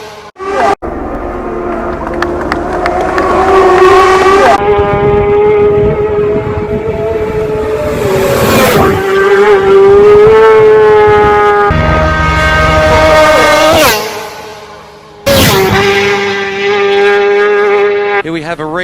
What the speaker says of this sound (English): See him get back on the throttle aggressively as soon as he knows the front.